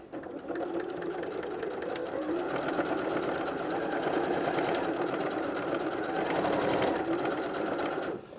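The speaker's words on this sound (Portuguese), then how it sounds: "eu vou fazer uma costura bem na beiradinha aqui só para fixar essa peça" A sewing machine runs steadily, stitching a close seam along the edge of a Ricca handbag panel, one continuous motorized whir at close range with brief pauses at start and end, no talk.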